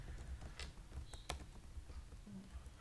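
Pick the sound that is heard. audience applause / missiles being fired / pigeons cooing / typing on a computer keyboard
typing on a computer keyboard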